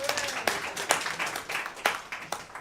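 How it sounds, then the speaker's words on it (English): An audience at a London political event about nightlife claps in a steady, moderate round of applause, with individual sharp claps standing out through the short burst. "Guarantee round of applause for that."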